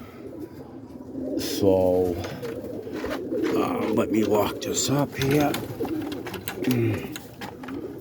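Pigeons cooing in pairing cages, with repeated soft throaty coos and some rustling nearby. Someone talks over them briefly near the start.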